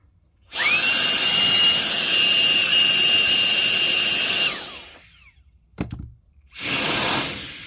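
A GOOLOO F1 air duster and vacuum whirs at full power with a loud, steady, high-pitched motor whine for about four seconds. It winds down, a brief clatter follows, and then it roars on again.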